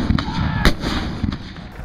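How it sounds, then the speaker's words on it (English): Cannon artillery fire from a Civil War battle sound effect, with dense booming blasts and rumbling detonations repeating over a continuous roar of battle noise. "Now Jubal Early brought up cannon and shelled this ridge."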